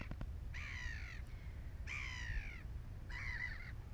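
Three separate harsh, squawking seagull calls ring out one after another at even intervals, each lasting under a second, over faint background noise.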